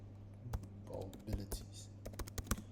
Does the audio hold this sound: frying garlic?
no